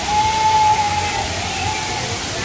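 Tamaraw Falls in Puerto Galera roars as a steady, loud broadband rush of falling water, continuous and unbroken, with a busy crowd of visitors faintly mixed beneath the torrent.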